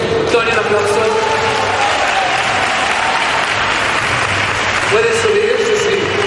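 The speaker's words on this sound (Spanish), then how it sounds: "Antonio, un aplauso." Sustained audience applause at a town fair's opening proclamation in San Pedro Alcántara, loud and steady, with a voice speaking over the clapping near the end.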